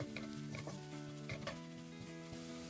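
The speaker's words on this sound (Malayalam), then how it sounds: "ഇനി ഈ മസാലപ്പൊടികളുടെ റോ ഫ്ലേവറൊക്കെ ഒന്ന് പോകുന്നത് വരെ 1 മിനിറ്റ് നേരം ഇളക്കുക." Chilli powder and chicken masala being stirred in a hot oiled pan for a Kerala-style chicken curry: soft steady sizzling with intermittent scraping taps of the spoon against the pan, close and quiet.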